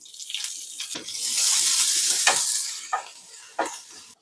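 Finely chopped onion, two chopped green chillies and curry leaves drop into hot oil and fry, as a loud hissing sizzle swells, holds for a moment, then eases, punctuated by a few sharp spatula knocks.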